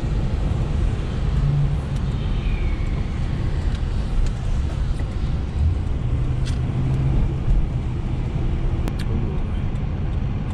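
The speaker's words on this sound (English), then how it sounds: "Check out the old car right there. That is a Cobra, for heaven's sakes." An old Cobra sports car drives past in Canadian traffic, its steady engine rumble and road noise sounding close and continuous without any talk.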